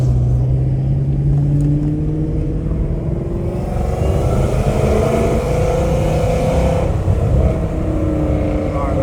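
A Dodge Hellcat Redeye accelerates hard through Los Angeles, its engine roar climbing steeply in pitch, dropping at a gear change and climbing again, loud and close from inside the car.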